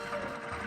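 A sewing machine in a Nancy Drew mystery game runs in a short, quiet burst. A soft, fast mechanical whir and chatter is heard alone.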